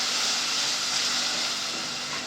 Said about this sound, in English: I'm going to go in with some of the stock that I've taken from the boiled beef